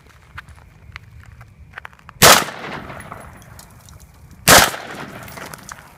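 A real firearm fires two loud, sharp shots about two seconds apart, each with a brief echoing tail over faint background rustle, with no voices.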